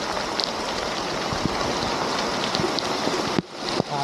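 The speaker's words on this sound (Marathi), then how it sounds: "तर सध्या कोकणामध्ये जोरातच पाऊस चालू आहे." Heavy monsoon rain pours down on a Konkan village, a dense continuous hiss of falling water up close with scattered drips and splashes, dropping briefly near the end.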